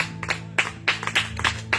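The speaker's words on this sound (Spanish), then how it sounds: "dele palmas a Dios" A church congregation claps together in a steady rhythm, about six sharp, loud claps in quick succession over a low sustained hum in the background.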